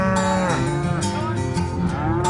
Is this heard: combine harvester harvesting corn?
no